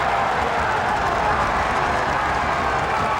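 Football crowd at an FA Cup first round tie between Eastbourne Borough and Oxford United roaring and applauding after a retaken penalty is scored, a dense, steady wall of cheering and clapping heard throughout.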